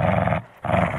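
A mean dog in the video game Dexter Stardust growls in two low, rumbling bursts separated by a brief pause, loud and close, with no talking.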